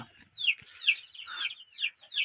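Farmyard chickens near a coop give a run of bright, repeated clucks and squawks, about five distinct calls in quick succession, close and clear with no talking.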